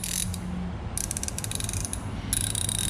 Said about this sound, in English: The notchiness in the teeth is a little higher than I expected. I was hoping it would have a little bit of a finer click.